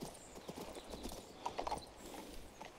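Horse hooves clip-clopping at a steady riding pace in the video game King's Bounty 2, fairly close and alone, with a faint whinny-like tone partway through.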